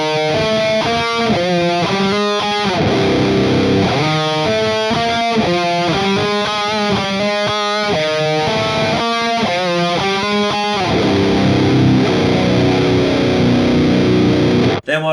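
Heavily distorted electric guitars play a death metal riff in fourth harmony, loud and continuous with chugging palm-muted notes and shifting melodic lines, ending in a sustained ringing chord.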